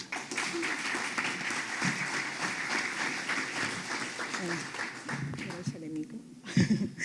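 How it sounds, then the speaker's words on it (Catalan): Audience applause at a prize-giving ceremony during an olive oil festival in Terra Alta, Catalonia, moderately loud clapping that carries on steadily and tapers near the end, with a voice speaking over it. "Un fort aplaudiment."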